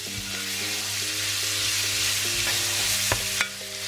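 Vegetable curry with yellow sweet pepper caramelising in a pan over a medium flame, a steady close sizzle with occasional stirring clicks and scrapes and a low hum of background music.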